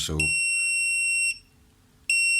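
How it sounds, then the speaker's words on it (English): A MUSTOOL MT8206 multimeter in continuity tester mode beeps through its small built-in speaker: a sustained high electronic tone, a short gap of quiet, then the tone again. It is loud and close, with a brief spoken word at the start. "if there's less than 50 ohms resistance, it will beep."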